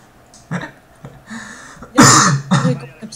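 A man, mid-rant while playing FIFA 13, coughs and clears his throat in a few harsh bursts, close and loud, with short pauses between them.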